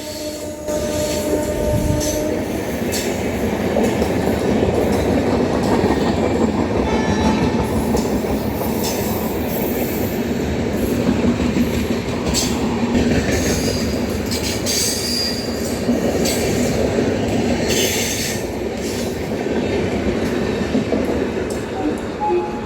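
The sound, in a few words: Paschim Express train overtaking at Hazrat Nizamuddin railway station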